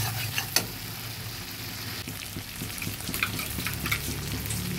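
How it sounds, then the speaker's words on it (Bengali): Turmeric powder dropped into hot oil in a pan, a soft steady sizzle with a few faint crackles and light scrapes, fairly quiet and without talk. "রংটা সুন্দর আসার জন্য আমি তেলের মধ্যে হলুদ গুঁড়োটা দিলাম।"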